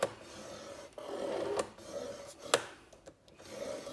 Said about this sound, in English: So I am going to score at 1 inch